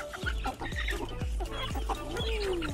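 Chickens, Appenzeller Barthuhner fancy hens among them, on a small farm in Georgia cluck steadily and close by, sharp rhythmic clucks repeating every half second or so with busy flock chatter behind.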